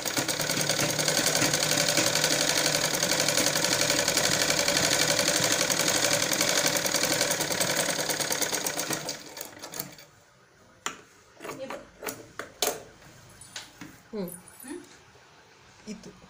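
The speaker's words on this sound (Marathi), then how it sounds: "आणि आपण आता इथे शिलाई मारून घेणार आहोत." Sewing machine runs in a fast continuous buzz for about nine seconds, stitching a blouse back neck with lining, then stops; someone talks afterward amid short handling noises.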